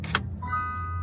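Door locks on a Mitsubishi Triton pickup releasing just after the engine is switched off: a single brief mechanical clunk near the start, followed by a steady tone and low idle-like hum.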